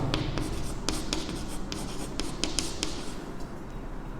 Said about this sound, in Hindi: सबसे पहले मैं यहाँ पे लिखता हूँ